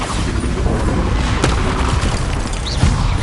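A Bombarda explosion spell cast in a video game produces a loud, sustained, rumbling blast with crackling debris and a couple of sharper hits, close and dense throughout.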